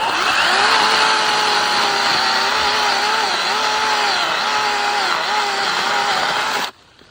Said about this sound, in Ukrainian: Я ще намагався натиснути на пилку, ну, треба, щоб вона сама йшла.